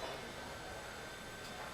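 Kacheguda-Tuticorin express train slowing as it pulls into the small Manyamkonda station, a steady broadband rumble and rolling hiss of the coaches heard close and continuous, with no talk.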